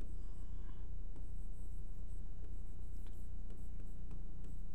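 A quadratic equation being written by hand, with soft, continuous scratching of a pen or chalk at close range over a steady background hum.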